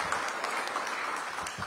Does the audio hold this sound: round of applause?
yes